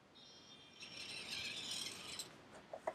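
Drivetrain gears of a Hobby Plus 1/18 scale LC80 RC crawler truck whirring under slow throttle, a thin mechanical whine rising and falling for about two seconds, then a few small clicks.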